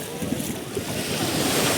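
Black Sea surf at Chornomorsk, Ukraine: a continuous broad wash of waves rolling in, loud and close, mixed with heavy wind buffeting the microphone.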